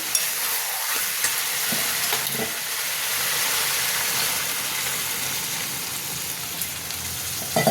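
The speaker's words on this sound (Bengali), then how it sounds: "জল দিয়ে দিলাম" Water hits a sizzling red chicken curry masala cooked with potatoes, making a loud, continuous frying hiss with occasional stirring scrapes. Nobody talks.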